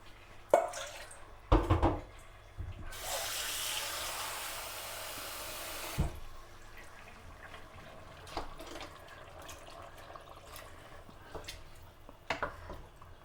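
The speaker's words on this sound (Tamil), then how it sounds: "தண்ணி விடுறத காட்டுறேன்." Water pours steadily into a pot of basmati rice for mutton biryani for a few seconds, with scattered clatters and drips before and after, close and fairly quiet.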